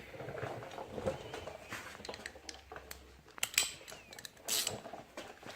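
A ratchet wrench loosening the spark plug on a Suzuki LT80 quad: close, fairly quiet metallic clicking and ratcheting in short irregular bursts, with light handling clatter of tools in between and no talking.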